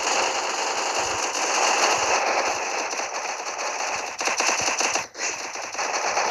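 Rapid automatic gunfire in a mobile battle-royale shooter game, sustained bursts of loud, dense shots running continuously with a brief pause near the end, no talking over it.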